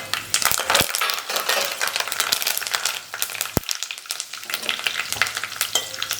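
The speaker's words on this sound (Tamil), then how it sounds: "கருவேப்பிலை நல்லா பொரிஞ்சிருச்சு" Curry leaves crackle and sizzle in hot oil already spiced with stone flower, marinated whole spices and cinnamon for a Chettinad jackfruit gravy, a dense steady frying hiss with sharp pops and a few spoon scrapes, close and loud throughout.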